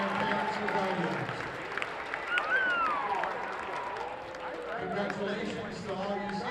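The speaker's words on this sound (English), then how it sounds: "Let's have one last round of applause for these 2023 seniors and their parents and guardians." Gym crowd at a Conneaut High School basketball game applauding the 2023 seniors and their parents, sustained clapping and cheering with a whistle-like tone and crowd voices mixed in.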